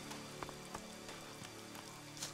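Rain falls in the video game Elex as a steady, soft hiss of drops on surfaces, quiet and continuous with a few faint taps and no voices.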